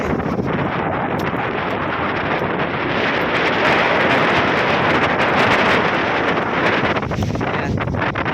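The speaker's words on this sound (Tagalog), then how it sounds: "Kasi mahangin siya eh." Strong wind from a super typhoon buffets the microphone in a loud, continuous roar, with no letup across the whole stretch and no one speaking.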